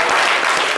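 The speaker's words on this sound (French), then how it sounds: "Applaudissez pour Désiré." Dense, steady applause from an audience at a live rap show, a loud continuous wash of clapping with no gaps through the short burst.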